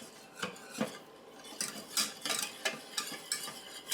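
A spoon stirring Parmesan cheese sauce in a pot for baked spaghetti, making a run of close scraping and clinking strokes against the metal in an irregular rhythm, with no talk.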